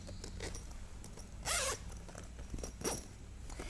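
A zipper pulled on a sewn fabric zipper bag pocket: two quick rasping zips, the first longer, close up and clear against a quiet room.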